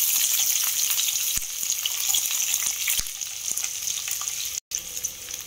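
Mustard seeds, curry leaves and onion fry in a hot pan for sambar, a steady loud sizzle and crackle with a few sharp pops and one brief dropout.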